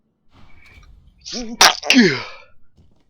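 One loud, close sneeze rings out on its own against near silence, with a sharp intake of breath just before the burst.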